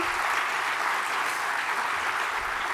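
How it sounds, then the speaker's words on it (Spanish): Applause from a conference audience greeting Chilean lawyer and academic Sebastián Soto as a panel guest at a Fundación Luksic event, a continuous dense roar of clapping at steady moderate volume. "a quien también le brindamos un aplauso"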